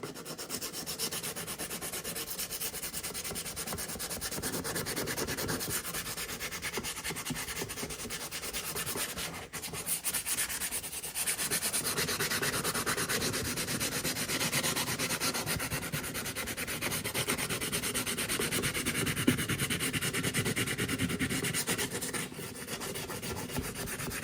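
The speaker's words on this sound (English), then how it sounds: "Just by going over it lightly with sandpaper, I can get rid of some of that smudge" Sandpaper is rubbed lightly back and forth over a painted surface of a thrift-store piece, making a continuous, close, gritty scratching that barely pauses throughout.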